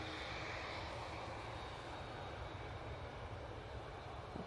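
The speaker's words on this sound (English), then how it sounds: "it's EasyJet touching down, coming in from Jersey" An EasyJet airliner arriving from Jersey touches down at Manchester Airport, its engines a steady, fairly distant rumbling roar that stays even throughout, with no talking.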